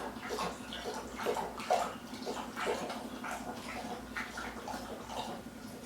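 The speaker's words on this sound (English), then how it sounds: "My dog is, she sucks down water like she's a pig at a trough" A dog laps and gulps drinking water steadily and eagerly, with repeated close slurping pulses over a low background hum and no talking.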